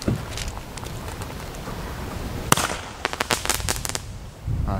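New Year's Eve fireworks and firecrackers going off irregularly outdoors, a sharp bang followed by a scattered run of crackling pops at middling distance over a steady background hiss.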